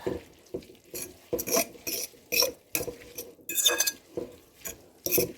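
A spoon stirs dumped-in seasonings through vegan corn fritter batter in a bowl, with repeated short scraping and clinking strokes against the sides in a steady rhythm, close and moderately loud, with no talking.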